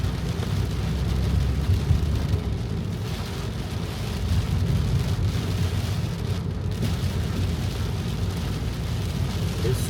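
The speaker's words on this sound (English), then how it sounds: "It's super heavy rain." Heavy rain pours steadily over a car driving in Riyadh, a dense, continuous roar of drops drumming on the roof and windshield with low road rumble underneath, loud and unbroken throughout.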